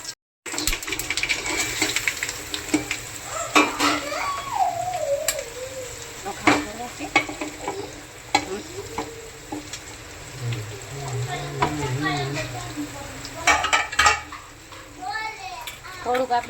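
Whole cumin and curry leaves temper in hot oil, a steady close sizzle and crackle with occasional stirring clinks, while voices talk over it.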